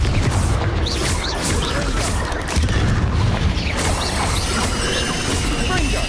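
Confringo spell explosions in the Hogwarts Legacy video game on Switch burst repeatedly in dense succession, loud booms and crashes layered with magical effects and a voice calling out spells throughout.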